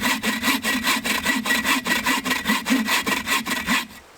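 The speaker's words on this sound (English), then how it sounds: "this is the dry wood blade. It's pretty fresh. It's gonna get pinched obviously" A hand saw fitted with a fresh dry-wood blade cuts wood outdoors at a fort in the woods, rasping in fast regular back-and-forth strokes, loud and close, stopping near the end, with no voices.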